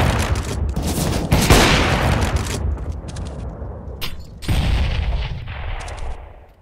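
Rapid gunshots in Counter-Strike: Global Offensive, dense bursts of gunfire across the clip with a brief lull, loud and close throughout.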